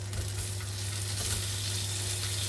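Steak meat frying in a hot pan with melted butter, a soft, steady sizzle with faint stirring scrapes, quiet and close with no talking.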